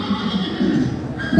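A black horse neighs loudly and close as a stage drama sound effect, one drawn-out, wavering whinny that swells again at the end.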